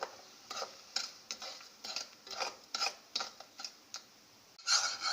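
A spoon stirring lemon syrup for a cake in a pot, light metallic taps and scrapes in an uneven rhythm, close and quiet, with no talking.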